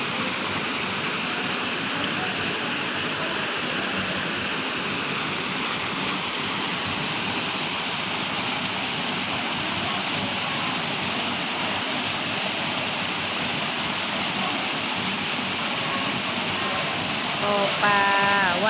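Continuous rushing roar of a waterfall, dense and steady throughout, close and loud with no pauses.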